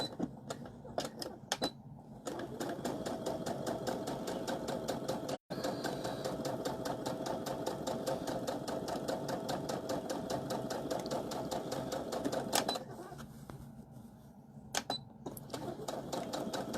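A sewing machine runs continuously at a rapid, even stitching rhythm while sewing a large piece of fabric for a casserole carrier, with brief pauses near the start and a short stop midway before resuming.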